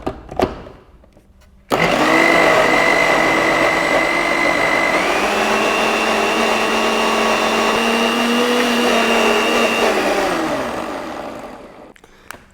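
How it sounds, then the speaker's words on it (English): A Philips multifunction mixer blends coconut milk in a loud, steady motorized whir that starts abruptly, shifts pitch slightly partway through, then winds down and stops near the end. "So let's blend this up."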